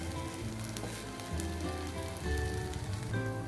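Soya kebabs fry in an oil-coated pan, giving a steady, close hiss with crackling spits that persist throughout, slightly louder toward the end, with no voices.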